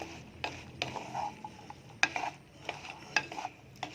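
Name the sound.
stirring tempeh in sweet sauce in a pan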